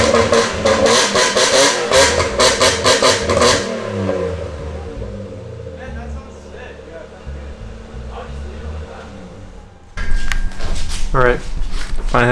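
A Toyota GX81 fitted with a new blast pipe exhaust revs hard and close, with a loud raspy roar that falls off, idles roughly, then surges again. Voices are heard over it.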